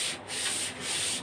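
Sandpaper rasps across wood in back-and-forth strokes, about three rhythmic scrubbing passes, close and clear with no talking.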